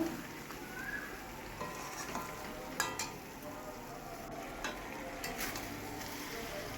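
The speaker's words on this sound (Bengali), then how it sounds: "ভালো করে কষাতে হবে কিন্তু মাংসটা" Chicken meat sautéing in a pan for a potato chicken curry, a steady sizzle with occasional scraping stir sounds at moderate loudness.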